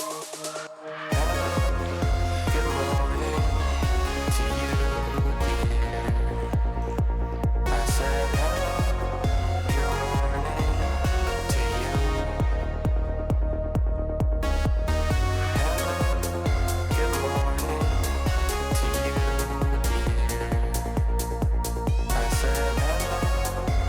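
Melodic house track "Hello, Good Morning" with vocals plays loud and continuous, a steady four-on-the-floor kick and bass under layered synth chords and melody, with a brief breakdown near the middle before the full groove returns.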